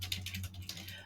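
Rapid keystrokes on a computer keyboard, about a second of quick close clicking in an even rhythm, faint and with no talking.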